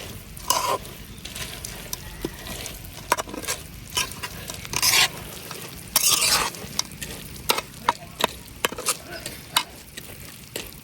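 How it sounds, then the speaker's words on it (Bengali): Fried boondi being stirred and turned through sugar syrup, heard close as scattered rustling, scraping strokes and brief bursts, with no talking. "এখন এই শিরার মধ্যেই বুরিন্দাগুলা দিয়ে দেম। একটু উল্টায় পাল্টায় দিয়াম।"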